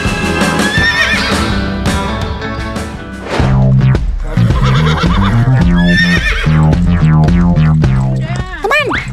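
Repeated neighing and whinnying from a trained dancing horse, mixed with hoof clip-clop and loud rhythmic music throughout.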